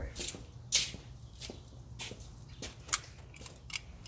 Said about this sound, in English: Sorry if you guys hear me shuffling my feet in the background when I'm walking.